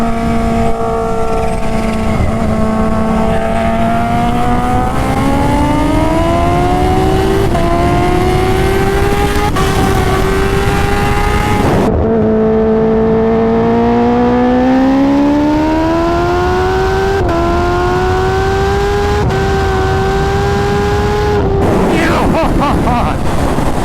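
A 300 WHP Kawasaki Ninja H2 races a 300 WHP turbocharged Suzuki Hayabusa. The engines rev loud and close, with rising gear pulls, shift breaks and chirps from the turbo blow-off valve. The sound carries on for the whole stretch.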